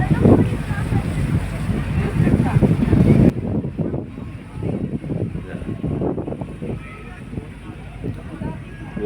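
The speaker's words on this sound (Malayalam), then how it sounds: "വലിയ സ്പീഡിലല്ല ബോട്ട് നീങ്ങുന്നത്." A boat moves slowly along the river at Valapattanam near Parassinikadavu in Kannur, a steady low rumble and water wash running throughout, louder at first then easing, with voices faintly present.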